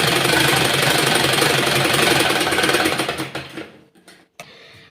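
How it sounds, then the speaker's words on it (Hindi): A sewing machine stitches a fabric shirt collar in a fast, loud, continuous run, then slows and stops, followed by a couple of short bursts of stitching and mechanical clicks. "ये बकरम हमारा चिपकने वाला नहीं है, इसलिए हम यहाँ पर सिलाई लगाएंगे इस तरह से।"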